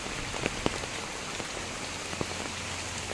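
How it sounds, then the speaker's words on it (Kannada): Heavy rain patters over a garden with water running through a side channel, a dense, steady hiss of drops with scattered sharper splashes nearby. "ಇವಾಗ ಸುರಿದ ಮಳೆಗೆ ನೋಡಿ ತೋಟದ ಸೈಡಲ್ಲಿರೋ ಈ ಕಣಿಯಲ್ಲಿ ಎಷ್ಟು ತೋರವಾಗಿ ನೀರು ಹರಿತಾ ಇದೆ ನೋಡಿ"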